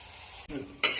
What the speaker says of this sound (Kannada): ಇದು ಫ್ರೈ ಆಗ್ತಿದೆ ಫ್ರೈ ಆಗಲಿ